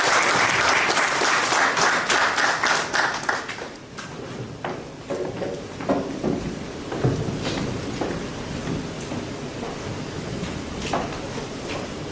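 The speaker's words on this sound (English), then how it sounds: "please join me in welcoming Dr. Pramod Kumar to address the gathering with a huge round of applause" An audience at a Bangalore business school orientation program welcomes a speaker with loud, sustained applause that tapers into scattered claps and faint room sounds.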